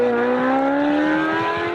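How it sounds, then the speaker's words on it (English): A loud car with an aftermarket exhaust, cat or muffler removed, revving up in one long rising pull, the engine note climbing steadily and close to the listener with a raspy, droning edge. "Taking out parts like the cat or muffler makes your exhaust way louder."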